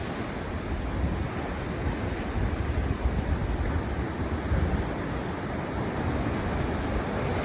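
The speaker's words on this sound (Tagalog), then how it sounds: "hindi naman malakas ang hangin eh" Steady wind roars and buffets the microphone at a lighthouse in Timaru, New Zealand, a dense unbroken rush of noise with no voices, like gusts along an open shore.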